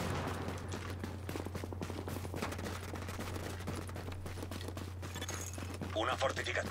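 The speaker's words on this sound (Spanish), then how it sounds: "Una fortificación está recibiendo disparos." Dense gunfire on a fortification in the video game The Division, rapid overlapping shots and bursts under ongoing talk from players, with a steady low hum behind.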